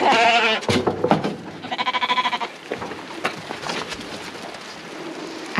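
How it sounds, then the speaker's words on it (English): Sheep loaded in a truck bleat repeatedly and loudly up close, with a few wavering cries in quick succession and a steady engine-like rumble beneath. "After picking up the sheep and loading them in the truck"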